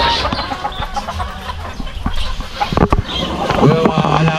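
Chickens cluck and squawk close by while being fed, including a grey pullet, with a rooster-like call toward the end, and people talk over the birds throughout.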